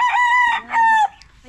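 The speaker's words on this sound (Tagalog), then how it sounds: "Ito yung mga daming manok dito ni Tita Baby" A rooster on a farm in Carmen, Agusan del Norte, crows loudly and close by, two long sustained calls in quick succession, then fades into quiet yard sounds.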